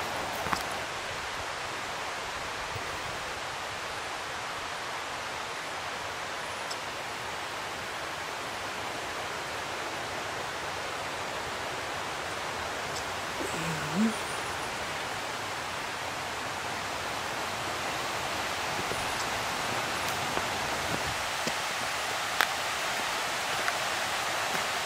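Waterfall heard from the top of Joaquina Falls in the Columbia River Gorge, a constant broad roar of falling water that stays steady and fairly loud throughout, with no voices.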